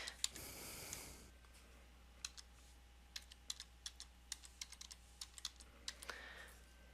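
Keys on a computer keyboard clatter in short, irregular bursts of crisp clicks, close and fairly quiet in an otherwise still room.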